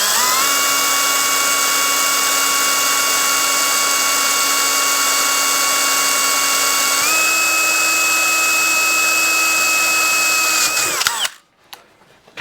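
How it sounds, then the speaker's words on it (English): A small power drill with a small bit drills into metal, whining steadily at high speed for about eleven seconds, pitch rising slightly midway, then cuts off abruptly into quiet. "I'm just going to start with a small drill bit that will kind of fit into that punch mark"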